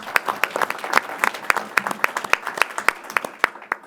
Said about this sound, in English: Yeah, that is an applause line.